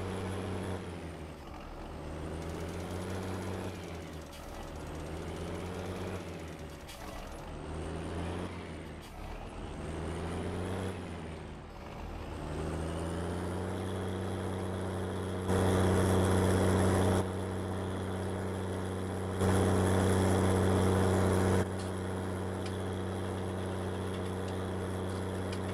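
Tractor engine in Farming Simulator 2019 droning steadily, its pitch sagging and recovering repeatedly as revs drop on ramps, then holding a steady hum with two louder swells near the end.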